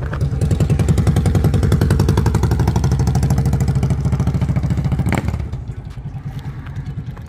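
A motorcycle engine rumbles loudly and close by with a steady clattering throb for about five seconds, then drops away abruptly, leaving a quieter low engine hum behind.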